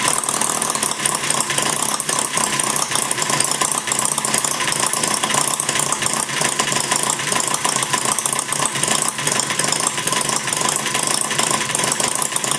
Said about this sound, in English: You can play with it and see how low you can get it to idle.